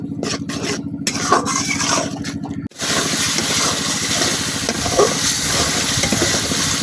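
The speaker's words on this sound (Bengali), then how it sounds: "এখন মশলাটা তেল ছেড়ে দেওয়া পর্যন্ত কষাই নিলাম" Spice paste for chicken curry frying in oil in a village kitchen, a steady close sizzle with repeated scraping strokes of stirring, briefly cut off near the middle before resuming.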